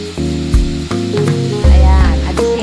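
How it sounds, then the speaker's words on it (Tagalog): Pancetta and onion sizzle loudly in a pan while being stirred, close crackling frying broken by several scraping stir strokes and knocks against the pan, with no voices. "Igisa muna natin itong pancetta natin."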